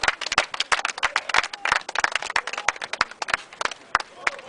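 Audience clapping at a Burkina Glisse event speech, a brisk run of separate, sharp hand claps from a small crowd, fairly close, uneven in rhythm over several seconds.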